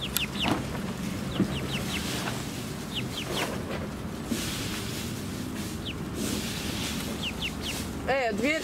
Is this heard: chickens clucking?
yes